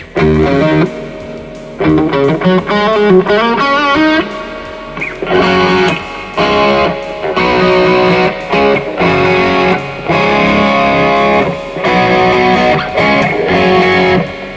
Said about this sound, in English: Listen, I just turned the delay off.